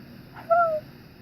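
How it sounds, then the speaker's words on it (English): A single owl hoot from a TV commercial playing in a room, one short clear falling call heard at moderate distance over low background hum, with no talk. "There's an owl commercial."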